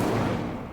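A fire spell, Incendio, cast in the wizarding video game Hogwarts Legacy: a short, dense burst of flame that rushes out and then fades over under a second, with no talk.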